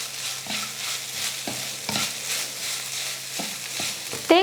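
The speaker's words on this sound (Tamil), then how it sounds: "இப்போ எல்லாத்தையும் சேர்த்து வதக்கிக்கிறேன்." Grated coconut and onions sautéing in a pan for coconut rice, a continuous sizzle broken by several stirring scrapes of the spatula, close, with a sharper clink at the end and no talk.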